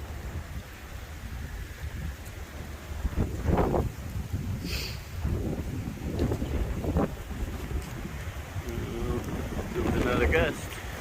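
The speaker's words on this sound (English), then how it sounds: "Another gust." Gusty wind from an approaching hurricane near Disney buffets the microphone in uneven bursts of low rumble, rising and falling over about eleven seconds with a few brief higher rattles.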